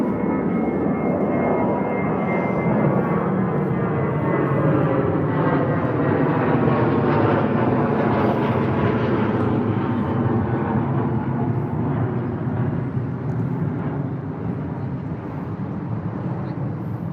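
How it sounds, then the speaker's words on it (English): A British Airways Airbus A320 takes off from London Heathrow, its jet engines a loud continuous roar that swells and slowly shifts in pitch as it passes, heard alone without voices. "off to Budapest, A320 for British Airways."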